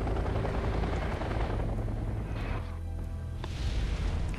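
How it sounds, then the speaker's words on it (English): Helicopters in the war strategy video game Wargame: European Escalation, a continuous loud rotor and engine roar mixed with dense game battle noise, with a shift in texture partway through. "pushing up his helicopters. He's bum rushing it"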